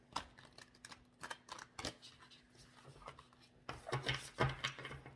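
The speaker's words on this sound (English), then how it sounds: "a gigantic awkward-ass deck that I hadn't used in forever, that I cannot shuffle like normal" A gigantic, awkward tarot deck being shuffled by hand, giving a run of soft, papery slaps and riffling taps close by, growing busier and louder toward the end, with no talking.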